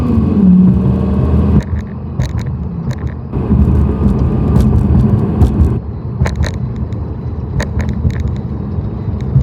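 A powerful V10 sports car engine rumbles loudly and steadily nearby, its deep drone shifting slightly in pitch with a few sharp clicks over the top.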